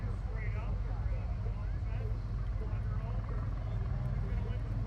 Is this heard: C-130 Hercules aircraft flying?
yes